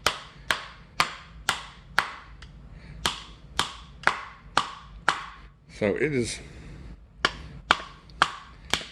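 Repeated sharp whacks of a Helle Folkekniven knife blade being hammered into a 2x4 board, steady strikes roughly every half second with a short pause and rustle midway, a brief word spoken at the start.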